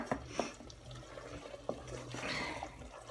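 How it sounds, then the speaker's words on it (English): Water pours and splashes into a pot in short, quiet bursts, with a few light clinks of the pot. "I'm gonna add a bit more water."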